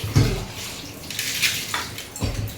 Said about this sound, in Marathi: मच्छी धुवून झालेली आहे